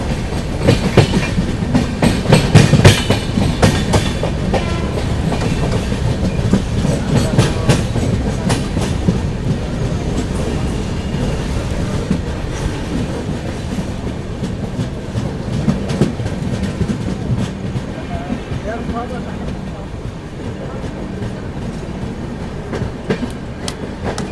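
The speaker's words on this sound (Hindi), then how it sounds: "यहाँ पर अपना अराइवल हो रहा है सूरत रेलवे स्टेशन पर" Aboard the Pune AC Duronto Express pulling into Surat station, a continuous loud carriage rumble carries irregular wheel clatter over joints, easing slightly toward the end as the train slows.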